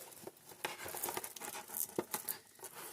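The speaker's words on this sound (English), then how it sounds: "Let's go ahead and cut the plastic." Plastic shrink wrap on a Revell Monogram Babylon 5 Starfury model kit box being cut open, producing close, quiet crinkling and scattered sharp snips and tears over about three seconds.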